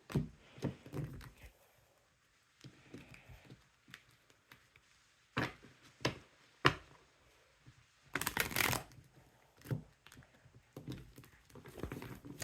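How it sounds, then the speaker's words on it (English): Cards being shuffled and riffled in several quick, close bursts, with soft thumps and pauses between them. "So let's shuffle these cards."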